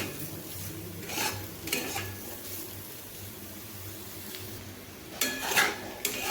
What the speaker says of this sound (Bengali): আলু করলার সঙ্গে পেঁয়াজগুলোকে ভালোভাবে এইভাবে মিশিয়ে আমি আরেকটুক্ষণ ভেজে নেব